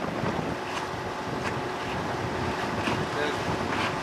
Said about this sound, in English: The gusty winds can make you think that it's high seas and treacherous outside